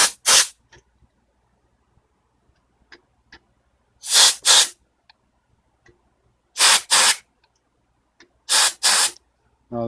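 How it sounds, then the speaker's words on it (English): Compressed air can sprayed at microscope lenses to blow off dust, sharp hissing bursts in pairs and singles separated by quiet gaps, close and loud. "This is compressed air."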